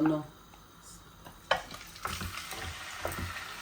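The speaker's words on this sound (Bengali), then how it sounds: "এখন আমি এগুলারে বাজি লিমু" Roaster chicken pieces marinated with ginger, garlic and salt hit hot oil, starting a close crackling sizzle broken by stirring clatter and scrapes.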